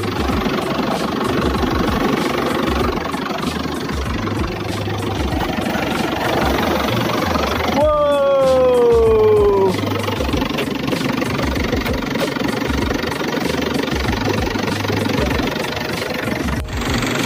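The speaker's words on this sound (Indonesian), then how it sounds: "untuk mesin ini mesin Isuzu ya, Isuzu 4JB1T atau Isuzu Bighorn ya" An Isuzu 4JB1T turbo diesel engine swapped into a Suzuki Vitara runs at a steady clattering idle, loud and close, with a brief rising whine partway through.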